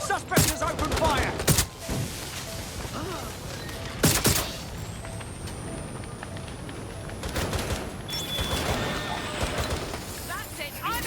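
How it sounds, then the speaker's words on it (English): Gunfire in the Watch Dogs: Legion video game comes as rapid bursts and sharp cracks, loudest early on, over a busy, continuous bed of game sound. "Suspect has opened fire!"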